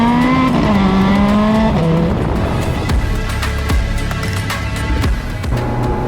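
Ferrari F430 16M with a 4.3 litre V8 revving loud and close, the engine note rising and falling through sweeping pitch changes with a hard, sustained roar throughout.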